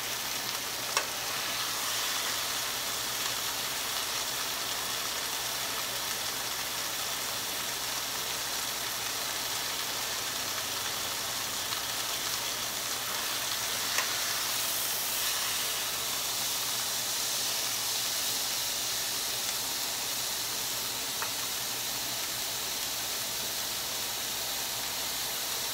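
Seasoned corned beef searing in a hot pan, a steady, even sizzle and hiss of frying fat that holds level and unbroken for the whole stretch, close and with no talk.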